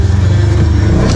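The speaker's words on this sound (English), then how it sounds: "That's that whining noise you're hearing." A UTV fitted with a particle separator runs steadily and loudly on a trail, a continuous engine drone with a high whine layered over the low rumble, constant throughout.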